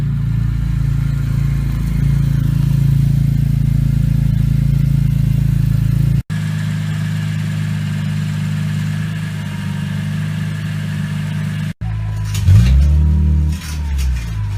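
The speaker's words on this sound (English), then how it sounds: "in the Explorer with the trailer hooked up to practice driving. First test drive of the trailer." Steady engine hum of a Ford Explorer driving while towing a trailer, a continuous low drone heard from inside the vehicle, with a brief bump and a shift in engine note near the end.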